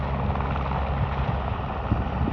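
A firefighting helicopter carrying a water bucket over a wildfire near the communities of Ruth and Post Mountain gives a steady, loud rotor thump and engine drone, close and continuous with no talk.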